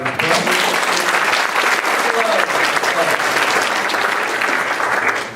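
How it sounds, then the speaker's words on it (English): A lecture audience at a college claps in a loud, dense, sustained round of applause that holds steady throughout. "Let's give Community Education a round of applause."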